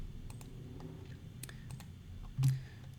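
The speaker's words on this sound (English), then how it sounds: "So I'll just quickly type in the domain name." Someone types on a computer keyboard in a quiet room: sparse, irregular key clicks, close and soft, ending with one louder thump near the end, no voices.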